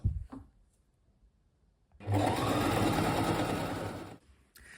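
A sewing machine stitches a haori kimono jacket in one steady run of about two seconds after a quiet stretch with a couple of soft handling knocks, then stops.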